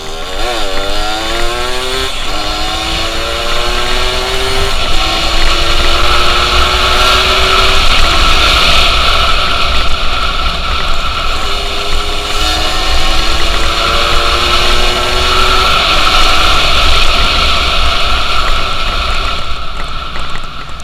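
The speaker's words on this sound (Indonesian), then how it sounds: "Sekarang kita cobain tarik lagi nih motornya kayak gimana." Suzuki Satria RU 120 LSCM two-stroke motorcycle accelerating hard through several gears, its engine whining up in pitch again and again, loud and close with steady buzzing, with no talking.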